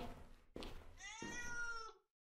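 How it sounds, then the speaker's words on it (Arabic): A cat meows in a quiet indoor setting: a short noisy onset, then one drawn-out, tonal meow with clear harmonics lasting nearly a second, fairly close and moderately loud, ending in silence. "صوت قطة"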